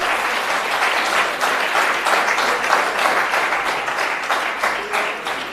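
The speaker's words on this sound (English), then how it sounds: "Round of applause, please." Sustained audience applause at a college silver jubilee celebration, thick continuous clapping from a large crowd, loud and steady throughout with no speech on top.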